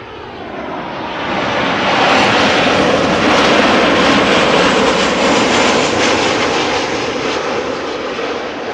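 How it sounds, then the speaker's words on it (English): Boeing 737 jet airliner passing at Amsterdam Schiphol Airport, a loud broadband engine roar that swells over the first two seconds, holds steady, then eases slightly as it goes by, with no talking. "737 once again coming this way."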